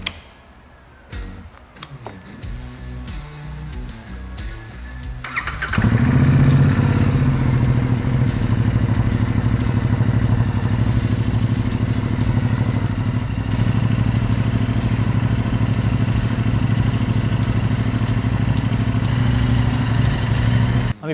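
A Royal Enfield Interceptor 650 scrambler with a reworked exhaust and intake clicks and cranks, then fires up and settles into a loud, steady, throbbing idle close by.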